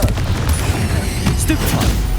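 A Confringo blasting curse explodes in the video game Hogwarts Legacy, a loud booming burst amid continuous combat noise and rumbling effects, with no clear gap before or after.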